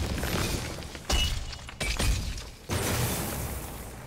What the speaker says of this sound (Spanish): con los cristales rojos se rompe estos mecanismos